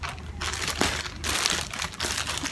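Scissors cut through plastic packaging of a Barbie toy box, with bursts of crinkling and rustling plastic in uneven strokes, close and fairly loud, with no voices.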